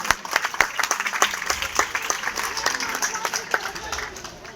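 An audience at a school annual program breaks into steady applause, with many hands clapping together in a dense, lively patter that fades slightly toward the end.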